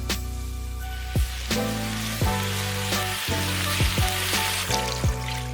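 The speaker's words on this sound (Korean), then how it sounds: "1분 정도 볶아주고 무 넣고 2분 정도 볶고" Beef and radish stir-fry in a hot pot before water is added for Korean beef radish soup, giving a steady close sizzle with occasional scraping stir strokes.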